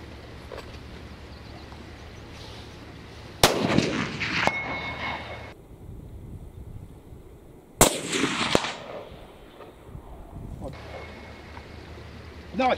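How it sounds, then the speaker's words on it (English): A Mauser M12 Extreme rifle chambered in 6.5x55 Swede fires two loud, sharp shots several seconds apart, each followed by a rolling echo, while people talk between the shots. "Nice shot, Mr. Parkin."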